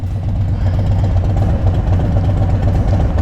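A new Harley motorcycle engine runs with a steady, loud, low throbbing rumble that holds an even pulse for a few seconds.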